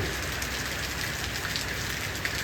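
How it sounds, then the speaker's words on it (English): Heavy rain pours steadily and evenly throughout, a dense continuous hiss of drops drumming on surfaces, with no pauses and no voices. "It has been dumping rain here for probably, it's probably been 5, 6, 7 hours already."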